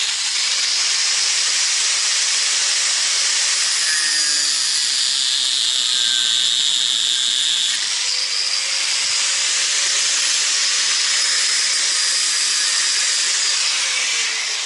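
A power tool cuts metal trunk handle parts for a Citroën Traction 11B with a loud, continuous hissing whine that holds steady throughout, shifting pitch slightly midway.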